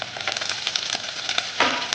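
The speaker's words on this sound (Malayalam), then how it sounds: "ഇനി നമ്മൾ ചതച്ച മുളകും ഇടാൻ പോവുകയാണ്." Crushed chili frying in a pan for a fish curry, sizzling and crackling loudly and steadily up close, with a brighter burst of spitting near the end.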